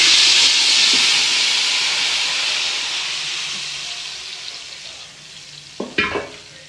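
Curry poured into hot tempering oil with curry leaves, a loud hissing sizzle that surges at first and slowly dies down, followed near the end by a couple of sharp clanks of a ladle against the pan.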